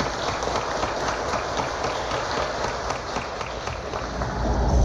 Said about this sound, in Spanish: vamos a darle un aplauso al Padre de agradecimiento